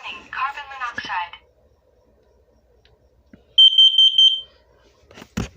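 A smoke and carbon monoxide alarm undergoing its monthly test gives a short run of loud, rapid electronic beeps, with a recorded voice speaking before it and a faint click afterward.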